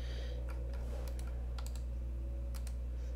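Typing on a computer keyboard, short bursts of soft key clicks over a steady electrical hum, near and without talk.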